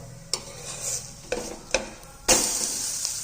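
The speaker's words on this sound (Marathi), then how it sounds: "थोडंसं हाताच्या साईने असं तेल लावायचं आणि हे आता आपण पलटी करून घेणार आहोत" Moong dal pancake frying in oil on a pan, with a continuous sizzle broken by several sharp spatula scrapes and knocks, then a louder, brighter burst of sizzling as the pancake is flipped over, heard close and without speech.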